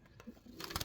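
A fancy pigeon at a pigeon farm gives a soft, brief coo, faint and short, with a light rustle just after it.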